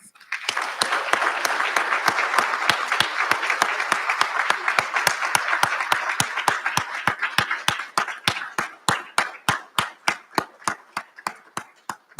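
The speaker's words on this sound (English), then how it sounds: "round of applause." A graduation recognition ceremony crowd gives a long, loud round of applause, with a steady rhythmic clapping beat running through it. The general applause thins toward the end, leaving sharp, evenly spaced claps.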